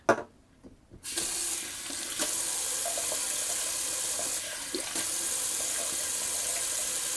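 A tap turns on after a brief moment and water runs steadily into a sink, a constant close hiss that continues to the end.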